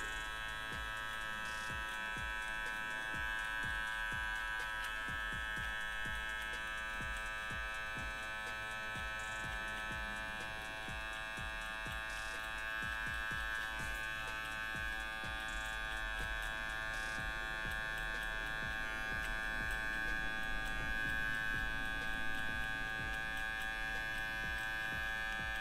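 Electric hair clipper buzzing steadily through a low fade haircut, a close, continuous hum with faint shifts as the blade moves over the head, no talk over it.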